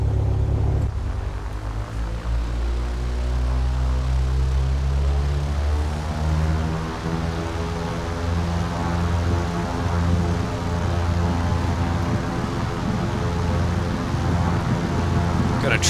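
An aircraft engine drones steadily through takeoff in Flight Simulator X, a loud, continuous propeller hum with its pitch slowly rising throughout.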